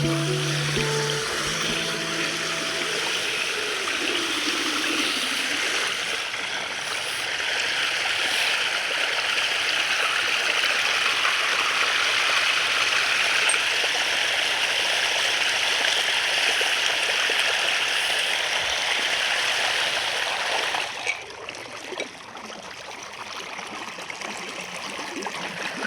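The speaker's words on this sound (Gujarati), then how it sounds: "જો મિત્રો પાણી આવવાનું ચાલુ થઈ ગયું છે." Irrigation water gushes and rushes steadily from a pipe gate into a field at close range for a long stretch, a dense continuous flow that drops slightly in volume near the end.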